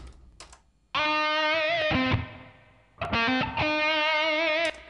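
Two sustained synthesized tones played back in Cubase with a reverb send applied to the channel, each starting abruptly and decaying into a smeared tail, with clicky transients between them.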